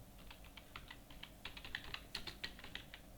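Quick, irregular keystrokes clatter on a computer keyboard during data entry in Tally Prime accounting software, soft and close, with clusters of light taps and no voices.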